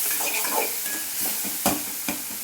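Tomatoes and onions frying in a pan hiss steadily while a spoon stirs them, giving several scraping strokes and one sharper scrape partway through. The sound is close and fairly loud, with no voices.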